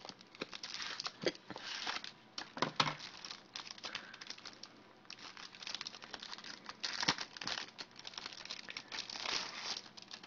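Crinkly plastic packaging of an iPhone 4 leather case being unwrapped and opened from the other side, with continuous close crackling and rustling and several sharper crinkles, heard alone with no talking.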